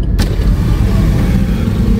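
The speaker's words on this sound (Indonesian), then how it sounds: "Aduh ada mobil lagi." A car passes close by on a roadside street, giving a steady, loud low rumble of engine and tyre noise that carries on throughout.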